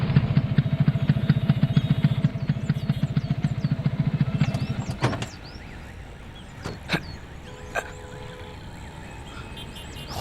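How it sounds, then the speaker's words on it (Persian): A motorcycle engine rumbles steadily for about five seconds, then cuts out, leaving quiet background with a few faint clicks and clatters. "ما با موتور میایم."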